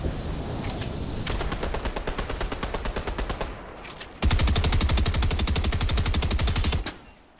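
Rapid automatic gunfire in the Fortnite video game, a long burst of evenly spaced shots, a short pause, then a louder, denser volley that holds for several seconds before cutting off.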